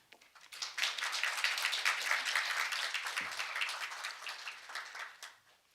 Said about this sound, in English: Please give her a warm round of applause.